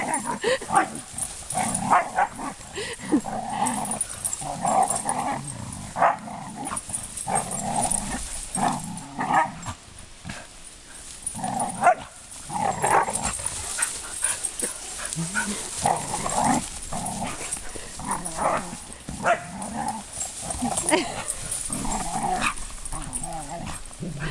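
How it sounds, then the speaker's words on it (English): Dogs playing roughly, with bursts of barking, growling and occasional whimpers, continuous and close for the whole stretch. "Are you beating up my dog, Delilah?"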